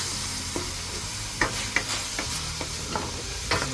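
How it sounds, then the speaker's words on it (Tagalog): Pinakbet cooking in a pan and being stirred, with a soft constant sizzle broken by several sharp scrapes and knocks of the utensil, close up. "Haluin mo talaga yan."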